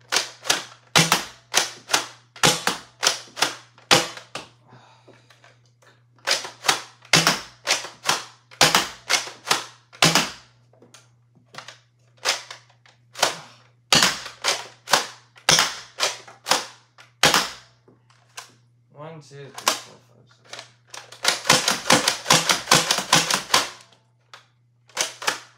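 Siren Maulr toy blaster firing a rapid run of sharp, loud single shots, then a denser burst of slam fire near the end, with a steady low hum underneath and no talking.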